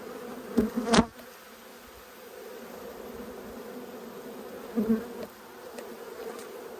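Honey bees buzz steadily around an open hive during a late-winter inspection, with a close bee passing loudly near the start and another swelling near the end.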